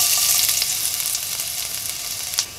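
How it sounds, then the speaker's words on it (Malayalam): Finely chopped garlic and ginger frying in hot coconut oil, a loud, close sizzle with light crackle and a few stirring scrapes, no one talking. "ആ എണ്ണ ചൂടായതിന് ശേഷം അതിലോട്ട് നമ്മൾ എടുത്തു വെച്ചിരിക്കുന്ന ആ വെളുത്തുള്ളിയുടെയും ഇഞ്ചിയുടെയും ആ ചെറുതായിട്ട് അരിഞ്ഞു വെച്ചേക്കുന്ന"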